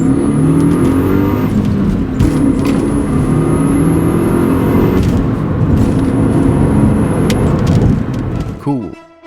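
A 2006 Saab 9-2X with a 2.5-liter engine accelerates hard, loud and close, with a rising whine like a serpentine belt whistle over the engine roar. A voice talks over part of it, and the sound drops away abruptly at the end.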